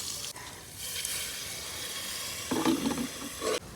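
Masala spices frying in a pot for a traditional desi beef salan, giving a steady close sizzle with brief louder bursts of stirring near the end.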